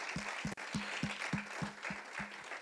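A church congregation claps in steady rhythm to acclaim the Lord, roughly eight regular beats over a soft bed of crowd noise, with faint voices and no clear speech.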